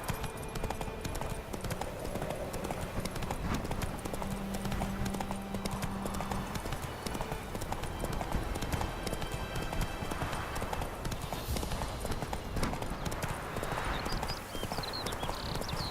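Rhythmic clip-clop of a horse's hooves at a gallop in The Witcher 3: Wild Hunt video game, continuous and steady under a layer of background game ambience.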